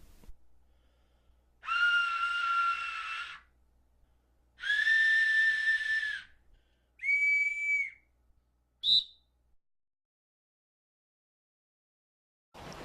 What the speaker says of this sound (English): Now adjust the size of your hole as well as the angle of your air intake until you know you hit the sweet spot.